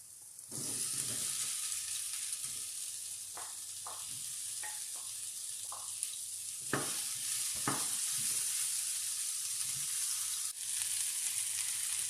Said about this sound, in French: Une fois que les oignons sont bien caramélisés, vous pouvez ajouter pour commencer les courgettes.